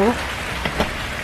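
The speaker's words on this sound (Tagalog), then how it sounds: "Malakas ang ulan" Dense, steady hiss of heavy rain pouring onto a surface, close and constant throughout.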